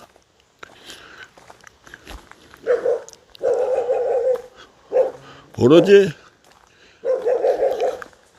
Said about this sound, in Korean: 반기는 거는 강아지밖에 없군요.